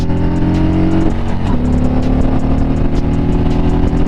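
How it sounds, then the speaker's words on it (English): A 2021 Harley-Davidson Street Glide motorcycle roars steadily and loud at full throttle in second gear, its engine pitch shifting as it is pushed hard, with no talking. "Here, let's put it second. And we just floor it."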